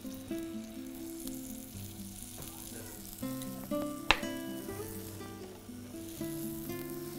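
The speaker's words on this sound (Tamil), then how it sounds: "கொஞ்சம் சுற்றியில் எண்ணெய் விட்டுக்கோங்க." Oil sizzles faintly on a hot pan as a dosa cooks, a soft continuous hiss under louder tonal background sound with occasional light clinks.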